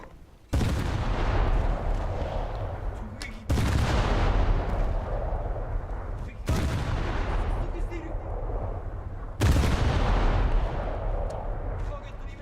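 Four heavy naval gun salvos boom out in World of Warships, fired at a Clemson destroyer, each a loud broadband blast at roughly three-second intervals with a long rumbling tail that fills the gap before the next.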